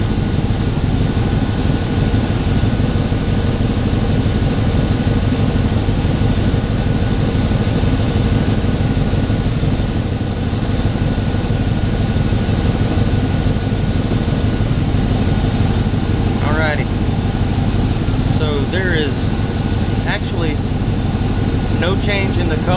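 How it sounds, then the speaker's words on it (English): A car engine idles steadily while warming up during a head gasket block test, a continuous close rumble with a few faint high chirps near the end. "let it warm up real quick."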